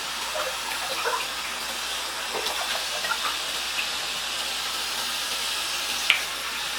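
Water runs steadily from a bathroom sink tap, a constant close hiss and splash, with a few faint clinks and one brief sharp tap near the end.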